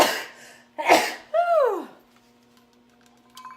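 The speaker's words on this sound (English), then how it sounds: "I'm going to sneeze from that pepper" A sneeze set off by ground pepper while cooking buffalo chicken dip with blue cheese crumbles, a loud close burst with a sharp breathy attack and a tonal, falling vocal tail, then quiet.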